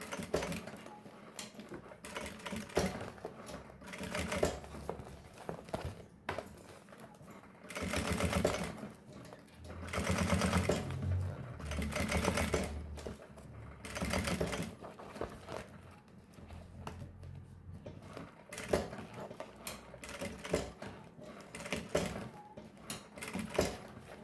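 A sewing machine stitches a baby's fabric organizer in repeated short bursts of rapid mechanical clatter separated by pauses, with back-and-forth runs, close by and alone.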